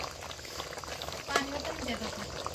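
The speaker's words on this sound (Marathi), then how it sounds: "बघू शकताय आता उकळी फुटलेली आहे" Satara-style chicken rassa curry boiling on a wood-fired chulha, a steady bubbling hiss with faint pops beneath someone talking nearby.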